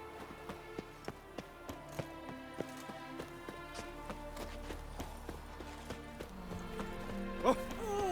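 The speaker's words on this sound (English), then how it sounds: "Bloody hell! A miracle on 4 hooves! Well, look at that horse." Horse hooves clip-clopping in The Witcher 3 video game: a steady, evenly spaced trot of crisp hoofbeats over a tonal game music bed, moderately close.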